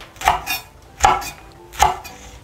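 A knife cuts through chili peppers on a cutting board, three crisp evenly spaced chops, close and clear, with no voices.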